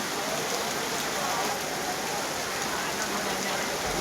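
Heavy rain pours down in Jamakhandi, Yadagiri and Vijayapura, a dense, steady hiss of water striking surfaces that holds unbroken and evenly loud throughout, with no voices.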